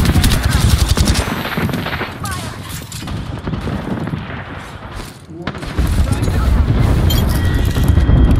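Rapid, loud gunfire from the video game Apex Legends played as Bangalore, with dense bursts and booming impacts filling the whole stretch, briefly dipping before heavy firing resumes, with voices faintly mixed in.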